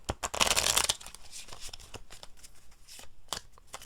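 A deck of cards being shuffled close by, a dense riffle burst followed by scattered soft flicks and taps as the cards are squared up.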